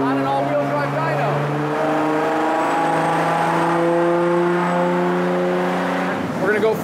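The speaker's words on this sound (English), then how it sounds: "setting up the car on the dyno, so he has to go at a consistent speed" A Nissan GTR runs at a steady speed on an all-wheel drive dyno, its engine holding an even, loud drone with layered harmonic whine that shifts slightly in pitch before rising again near the end, and no clear talking over it.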